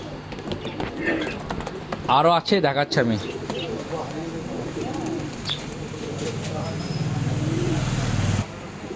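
Pet pigeons coo softly at close range, a batch of birds gathered indoors, with low throaty calls running beneath someone talking loudly most of the time and some brief wing flutters.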